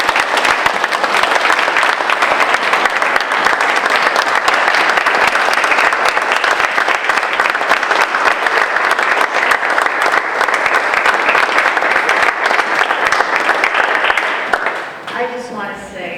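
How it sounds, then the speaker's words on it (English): A full room applauds two women at a community fund's annual meeting, producing dense, loud, continuous clapping that holds steady for about fourteen seconds before tapering off at the end. "So if you could give these 2 ladies here a round of applause"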